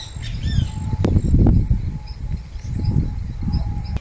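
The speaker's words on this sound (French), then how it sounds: "l'oiseau qui fait ce bruit, c'est le tyran Kiki" Great kiskadee calls ring out over a busy, rumbling outdoor background in French Guiana, a few sharp chirps and whistles scattered through the noise, moderately near.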